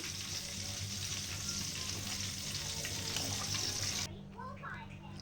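Manathakkali berries frying in hot oil, a steady close sizzle that runs continuously and then drops to a softer hiss near the end.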